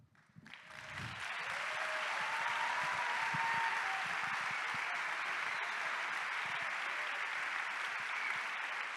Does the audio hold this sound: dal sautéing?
no